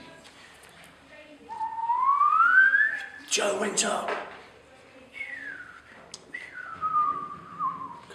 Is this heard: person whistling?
yes